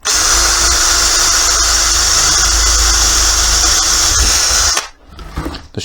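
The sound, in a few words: power drill drilling mounting holes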